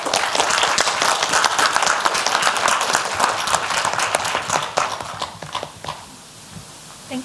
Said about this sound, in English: So I'd like you all to give a final round of applause to our excellent panelists.